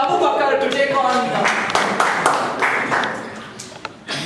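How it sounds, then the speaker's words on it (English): Audience clapping for a debater taking the floor at a Toastmasters-style speaking event, a burst of handclaps under an ongoing voice, fading after a few seconds. "A round of applause for Abu Bakr to take on."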